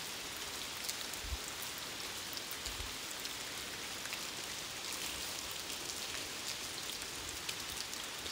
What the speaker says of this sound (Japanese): 雨降りすごいよ。 なんでこんな降ってんの。